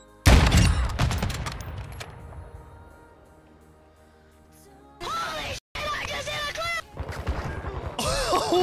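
A sharp, loud rifle crack from a sniper in Call of Duty opens with a quick cluster of gunfire echoes that fade away, followed by excited voices talking.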